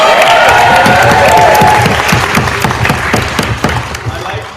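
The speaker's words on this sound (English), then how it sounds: "Get a round of applause." A debate audience breaks into dense, sustained applause that fills the room, with a brief high cheer or whistle near the start, then gradually thins out toward the end.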